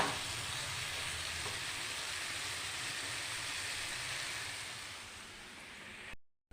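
Chana dal frying in spiced masala and oil, a steady dense sizzle running evenly close up before cutting off abruptly near the end, no voices.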